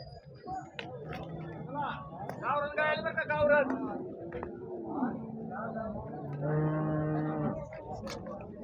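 Several desi cows moo in long, low calls at a cattle market, some near and some farther off, amid a busy crowd with people talking in the background.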